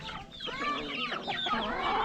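An agitated chicken clucks close by in quick, rising and falling bursts, with some squawking calls overlapping, loud and continuous over a quiet farmyard background.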